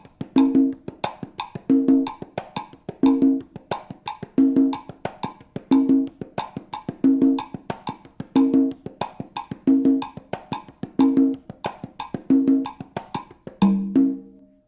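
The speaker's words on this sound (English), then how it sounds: "That's the sound of the conga drum." A conga drum played in a Latin rhythm against a 2-3 clave in 4/4 time, struck in a steady repeating pattern of crisp, resonant tones, clear and alone, looping evenly for the whole stretch.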